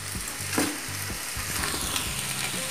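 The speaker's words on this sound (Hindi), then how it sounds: "और इसको मिक्स कर लेते हैं हल्के हाथ से।" Sabudana, sago pearls, being gently stirred in a frying pan for khichdi: a soft continuous sizzle with repeated low scraping and knocking strokes from the spoon, up close.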